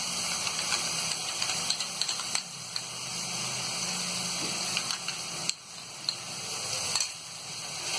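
Cream sizzles and hisses while being roasted in a pan with yogurt for Kashmiri-style dum aloo, a steady close frying crackle broken by a few stirring scrapes and brief dips.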